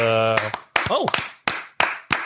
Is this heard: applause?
yes